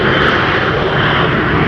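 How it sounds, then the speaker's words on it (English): A Delta Airbus A330-300 wide-body jet at Minneapolis–St. Paul airport in winter gives off a loud, steady engine roar that holds evenly through the whole moment with no voices. "we're going to be getting another Delta wide-body A330 departure, A330-300."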